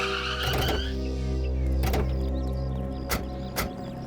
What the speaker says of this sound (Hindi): बस सर, गाड़ी रोक दीजिए यहीं पे।